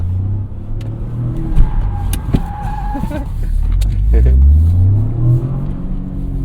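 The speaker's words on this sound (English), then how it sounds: "Use the handbrake to help us turn." Toyota GR Corolla doing a handbrake turn, deep engine drone rising in revs with brief tire scrub and skid noise, loud and close, under a voice talking.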